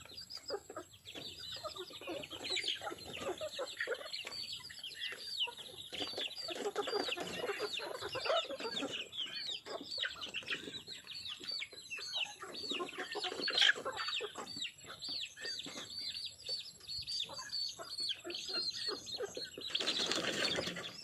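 Chickens cluck and chatter throughout on a farm, several birds close by with overlapping calls, ending in a short burst of wing flapping, with no voices.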